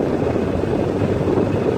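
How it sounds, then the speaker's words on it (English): A convertible's engine, which has a 20 hp fault issue, runs at raised revs with the vent fan on. It makes a steady, loud broadband drone with a low rumble that holds constant throughout, with no voices. "Rev it up a little bit here."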